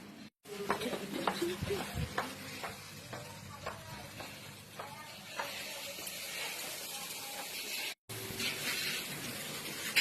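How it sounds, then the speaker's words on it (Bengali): Meat is sautéed in a pot at a festival-day home kitchen, with a continuous close sizzle of frying and recurring scraping stirs, briefly cut by two short silences. "এই দেখো এখানে কি হচ্ছে, মাংস কষানো হচ্ছে"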